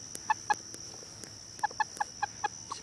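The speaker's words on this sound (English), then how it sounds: "this is a bad rooster." A rooster on a chicken farm gives a short run of faint, sharp clucks, spaced roughly evenly, over a steady background hum outdoors.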